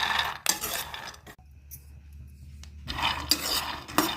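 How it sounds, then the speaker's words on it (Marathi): Peanuts dry-roasting in a pan over low gas until browned for chutney, heard as close rattling, scraping bursts of stirring at the start and end with a quiet, humming gap between. "आता ते चांगले खरपूस भाजून घ्या।"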